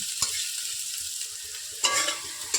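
Ghetkol paste fries in a pan with a close, continuous hiss, broken by a few sharp scraping stirs near the end.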